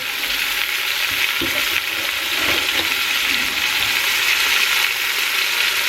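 Beef sears in a hot pressure cooker, a loud, even hiss of sizzling fat and juices, close up, with a few soft bumps as the meat shifts and settles.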